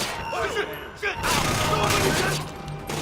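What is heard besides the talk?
gunfire from Splinter Cell: Conviction video game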